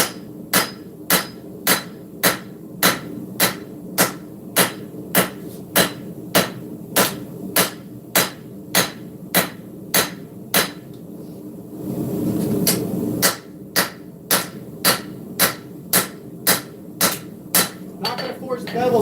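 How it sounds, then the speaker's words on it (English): Steady, evenly spaced hammer blows ring out as a cleaver blade is forged and its bevels are drawn in, with about thirty sharp metallic strikes, a short pause near the middle, then the rhythm resumes. "continue forging how we were doing it. Getting these levels forged in."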